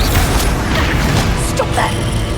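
A Bombarda explosion spell going off during combat in the game Hogwarts Legacy, a loud booming blast with crashing impacts and mechanical clatter mixed with other battle noise.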